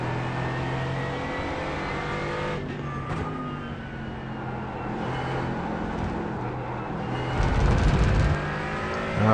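A Mercedes AMG GT4 race car at Portland International Raceway, its engine droning steadily on track, rising as it accelerates with a brief loud surge near the end, heard from inside the car with no talk.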